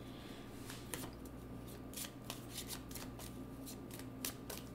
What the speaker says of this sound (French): Je vais juste prendre une carte.